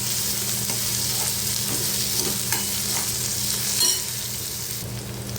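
Tomatoes sautéed with cluster beans in a pan give a continuous close sizzle, broken by repeated scraping strokes of a spatula and a brief louder clatter near the end, with nobody speaking.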